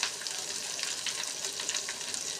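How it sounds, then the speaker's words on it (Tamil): Coriander chutney being tempered in hot oil, a steady close sizzle and crackle of frying spices running throughout, with no talk. "இதை நல்லா தாளித்து விட்டுட்டு"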